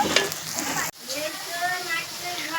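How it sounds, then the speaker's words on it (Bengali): Sliced onions sizzle steadily in oil in a wok, prepared for a village-style chicken biryani; a dense, continuous frying hiss with a brief break near the start, close and fairly loud. "আমি কড়াই পেঁয়াজ দিয়েছি চিকেনটা রান্না করব বলে"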